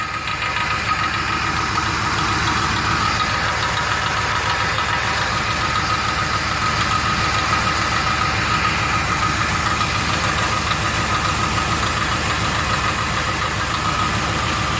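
A 2003 Ford Explorer engine idles steadily and loudly up close, with a fast, even tapping knock from a loose piece at the exhaust port running through the whole stretch with no break.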